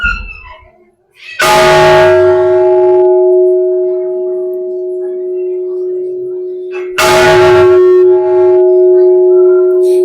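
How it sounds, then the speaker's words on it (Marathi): A large 514-kilogram temple bell is struck twice, several seconds apart. Each loud strike blooms into a long, deep humming ring, an om-like tone, that lingers steadily. "ह्या घंट्यामधून ओम असा आवाज येतो तो बघा"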